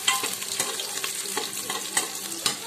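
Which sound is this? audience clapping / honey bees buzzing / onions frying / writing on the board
onions frying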